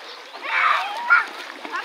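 Children splash and play in the stream water of a rural ravine, with bursts of splashing and sloshing close by, mixed with children's voices and an adult talking over the play.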